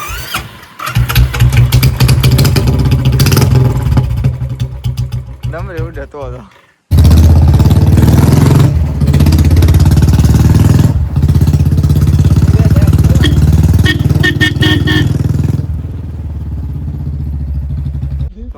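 A Bullet motorcycle engine starting and thumping loudly up close in Gir, with a brief cutoff before it roars again at a steady idle, while people talk over it.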